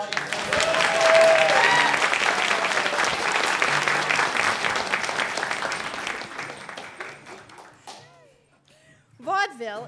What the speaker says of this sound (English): Wonderful round of applause for our audience.